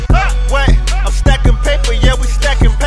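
A hip-hop track with punchy kick drums, a deep bassline and melodic synth hooks plays loud and steady from start to finish, with no talking over it.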